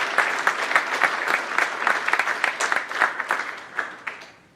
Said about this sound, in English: a nice round of applause for our parents and our families